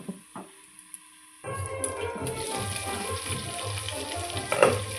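Shrimp frying under a lid in a pan: a few quiet clicks, then a sudden rise into a steady, loud, close sizzle that carries on to the end without talk.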